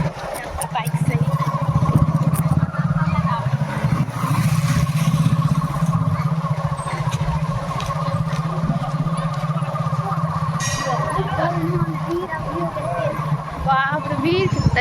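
A motorbike carries riders toward a Vat Savitri puja gathering, its engine humming steadily throughout at close range beneath wind and intermittent talk, with occasional revs.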